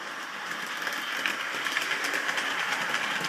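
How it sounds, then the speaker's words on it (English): A model locomotive runs round its layout track, giving a steady close whirring rumble with faint rhythmic clicking and no talk. "But there is the train coming round."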